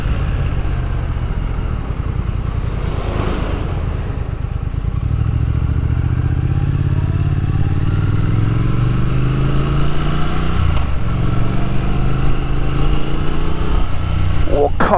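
A Triumph Thruxton RS cafe racer motorcycle engine drones loud and steady, with a rising rev and a deep rumble that builds through the middle, heard close up while someone talks over it.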